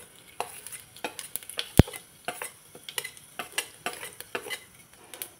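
Cumin seeds crackle faintly in hot oil while a metal spoon stirs and clinks sharply against the pan in quick, irregular strikes, close and alone.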